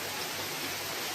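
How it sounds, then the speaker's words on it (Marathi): Monsoon rain falls steadily on a farm, a dense even hiss filling a brief moment with no break or variation. "आकाशातून पाणी कोसळत आहे"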